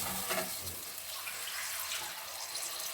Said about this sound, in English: now it's the turn to add water